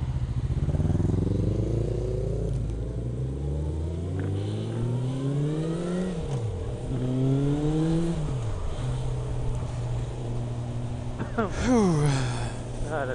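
Motorcycle engines rev and shift through gears on a group ride, pitch climbing and dropping repeatedly, with steady wind rumble and a louder acceleration near the end.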